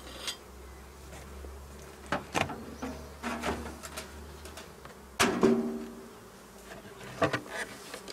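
Honeybees hum steadily from an opened hive during a spring colony inspection, with sharp clicks and knocks from handling the frames over the buzzing.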